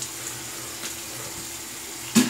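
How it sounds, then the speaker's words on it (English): Cold water running from a tap at room temperature, a steady soft hiss of flowing water with a brief louder splash or knock near the end, no voices. "I'm getting room temp out of my cold tap. I'm gonna let it run some here."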